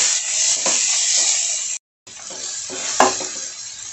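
Maggi Masala-ae-Magic seasoning being stirred into food in a pan, a steady close scraping and sizzling hiss that cuts out briefly, then resumes with a sharper clatter of the spoon.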